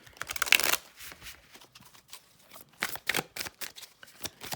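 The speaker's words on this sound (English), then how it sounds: "And then I just want one more shuffle like that" A tarot deck is riffled and shuffled by hand close up, with a quick burst of flicking card snaps followed by scattered softer taps and slides of the cards.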